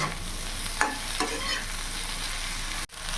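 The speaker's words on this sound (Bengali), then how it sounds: "এবার ভেজে রাখা আলুগুলো দিয়ে দেবো আলুর সাথে ভালো করে মিশিয়ে নেব" Fried potatoes stirred into okra frying in a pan: a continuous close sizzle with a couple of sharp spatula scrapes and a brief dropout near the end, no voices.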